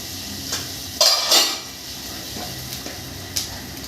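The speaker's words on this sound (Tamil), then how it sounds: "கடுகு பொரிஞ்சதையும்" Mustard seeds spluttering in hot butter in a kadai, with a few sharp pops and a brief clatter of a spoon or pan, then quieter crackling; no one speaks.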